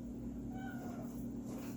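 A house cat meows in a kitchen, one soft drawn-out call over a steady background hum, faint and fairly close.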